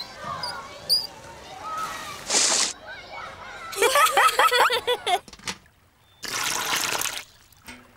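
Garden hose water spraying onto flowers in bursts of hissing splashes, stopping and starting, close and moderately loud, with voices talking in between.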